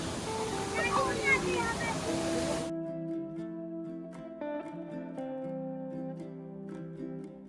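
Rushing water of Neer waterfall near Rishikesh, a steady broadband roar up close that cuts off abruptly partway, leaving quieter background with tonal sounds and people's voices.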